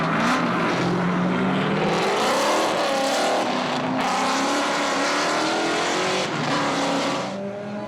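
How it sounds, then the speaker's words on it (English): A V8 Calais race car roars along a tarmac circuit during the Targa NZ classic rally, its loud engine rising and falling through gear changes with close, continuous revving and no voices. "he gets the V8 Calais restarted and rejoins the circuit"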